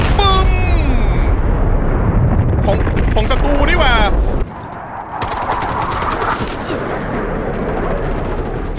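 Loud explosions and rapid gunfire in the video game Delta Force crash together, with a voice calling out over the din before things settle into a lower rumble.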